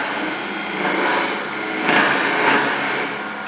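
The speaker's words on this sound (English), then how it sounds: "take the parting chisel, and I'm just going to cut a recess" A parting chisel cuts a recess into wood spinning on a small lathe, giving a steady, close scraping whine with a couple of brief swells in pressure, without any talk.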